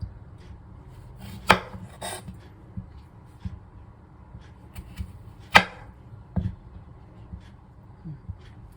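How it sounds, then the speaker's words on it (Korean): A knife slices a cucumber on a cutting board, producing a few sharp, separate chopping knocks with quiet pauses between them. "일단은 샘플을 하나 놓고 맞춰갖고 썰어주세요"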